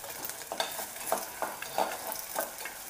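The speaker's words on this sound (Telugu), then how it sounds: "పచ్చిమిర్చి ముక్కలు, అల్లం వెల్లుల్లి పేస్ట్ బాగా వేగనివ్వాలి." Chopped green chilies and ginger-garlic paste fry in a pan, giving a steady sizzle broken by regular crisp scrapes of a spoon stirring, close and fairly loud with no voices.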